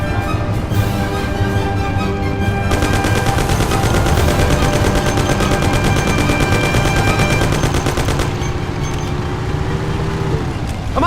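Rapid automatic gunfire in the video game Mafia: City of Lost Heaven rattles in a dense, loud burst through the middle, alongside a running car engine, with scattered shots before and after.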